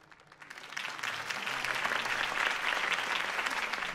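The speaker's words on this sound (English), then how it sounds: "If only Mr. Wayne, my campaign's largest backer, could have heard that applause" Crowd applause following a campaign speech in a Batman Telltale video game, the clapping swelling in from quiet to a dense, sustained roar of many hands that holds steady to the end.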